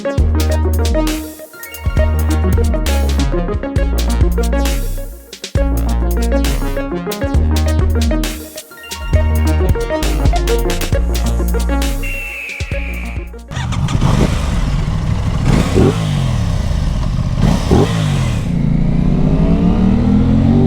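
A 2021 Aprilia RS660 A2 motorcycle accelerating hard, loud rising engine revs through several gear changes with brief dips between, then a rushing sustained roar with wind noise.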